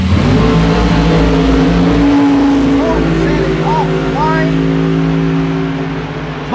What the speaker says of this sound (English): We're ready for funny car action.